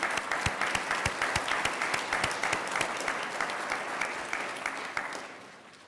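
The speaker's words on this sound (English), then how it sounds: "So I'm going to applaud you." At an MBA graduation ceremony at SUNY Oswego, a crowd applauds the graduates, with a few sharp close claps standing out over dense applause that thins and fades toward the end.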